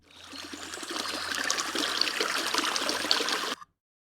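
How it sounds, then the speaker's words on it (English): Flowing river water from a sound library, a steady broadband rush and trickle that swells in over the first second, holds continuously, then cuts off abruptly near the end. "There are river sound."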